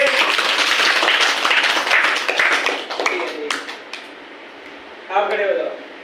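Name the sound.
children clapping for a classmate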